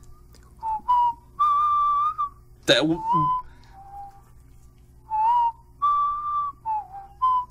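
Whistled melody from the Yuru Camp anime soundtrack, short clear phrases of sustained whistled notes separated by pauses, with a brief sharp noisy burst partway through and a faint low hum beneath.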